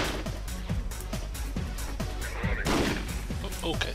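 Gunfire in Half-Life 2 during a fight with Combine soldiers, rapid bursts of sharp repeated shots at close range over a continuous rumbling game soundscape.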